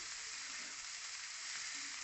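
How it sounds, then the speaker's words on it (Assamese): Shredded cabbage sizzles loudly and evenly as it fries in a pan for stir-fried chowmein vegetables, a close, continuous hiss with no pauses and no talking. "বন্ধাকবিখিনি ভাজিলোঁ"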